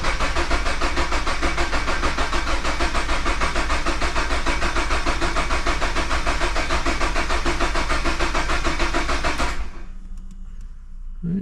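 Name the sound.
Toyota GR86 engine cranking in clear flood mode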